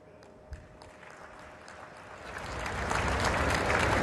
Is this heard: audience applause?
yes